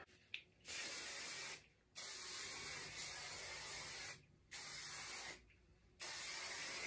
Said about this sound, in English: Did some humidity spray